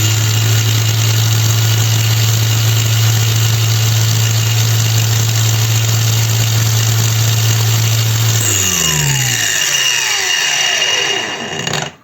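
A DRIVAK AG001 cordless angle grinder runs at full speed with a loud, steady high whine, then is switched off and winds down with a falling pitch until it stops.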